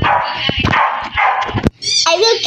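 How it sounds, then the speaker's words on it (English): A pet dog barks and yips somewhere in the room behind a gamer's voice during online play, several short sharp barks overlapping talk and then a brief whimpering cry near the end. "Ignore my dog back there."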